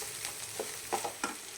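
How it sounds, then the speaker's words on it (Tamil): Grated coconut and curry leaves sauté in a hot pan, with a steady close sizzle broken by a few scraping stirs of a spatula, and no talking. "தேங்காய் வந்து எப்படி சொல்லலாம், கலர் மாறி வரணும், அவ்வளோவுக்கு இதை வதக்கணும்"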